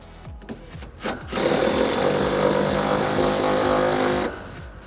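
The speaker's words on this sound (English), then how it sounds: "we're gonna be putting the bushing on there and threading on our nut" A nut is threaded down to compress a shock bushing on a 2005-2014 Mustang during a Pedders spring and shock install: a few light clicks, then a steady power-tool whir runs for about three seconds before stopping.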